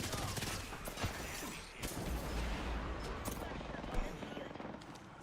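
Heavy, continuous gunfire in a battle royale video game, with dense overlapping bursts and scattered sharp single shots at moderate distance, while players talk over the shooting.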